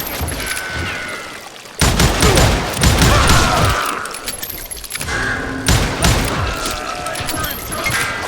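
Gunfire in the Western shooter video game Call of Juarez: Gunslinger: loud, dense volleys of shots in repeated bursts separated by short lulls, close and sharp throughout.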